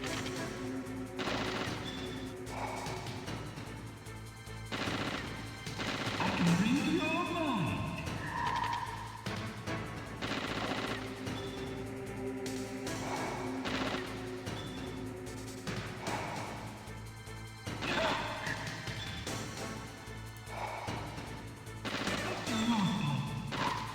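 Gunfire in the Metal Gear Solid video game, bursts of shots scattered across a busy stretch of game audio mixed with other effects and music.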